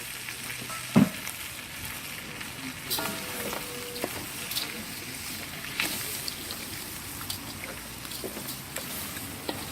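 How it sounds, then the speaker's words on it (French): Rice sautéing and sizzling with other paella ingredients in a pan while being stirred, a steady fry hiss broken by scraping utensil strokes and clinks throughout. "On fait bien revenir le riz dans toutes ces bonnes choses."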